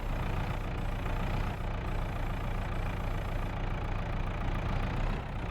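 Massey and Landini tractors in Farming Simulator 22 idle together in a continuous, even engine drone, with a deep low hum and a faint, steady mid-range tone and no noticeable revving.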